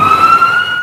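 An ambulance siren wails loud and close in a steady sustained tone, heard on a street in Bucaramanga, Colombia.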